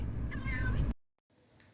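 A cat with an injured leg gives one loud, drawn-out meow close by inside a car on the way to the vet, followed by near silence.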